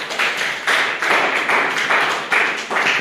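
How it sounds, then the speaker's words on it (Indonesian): Students in a lecture class clapping for a classmate, a short burst of rhythmic hand claps, fairly close and loud, steady beats without talk. "Aplaus buat Dani ya."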